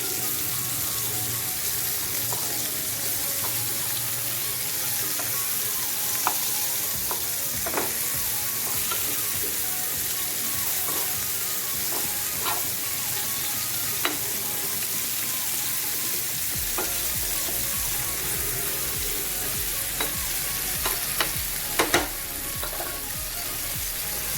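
Prawn masala fry (kolambi) crackling in a pan, a dense, continuous loud sizzle with occasional pops and utensil clicks as the pieces are turned, no voices.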